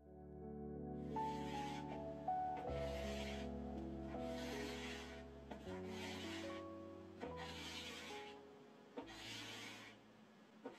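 Rhythmic scraping strokes of a 2.5-inch carbide scraper dragged across the finish on a wooden dresser's side, about six even passes over a steady background hum.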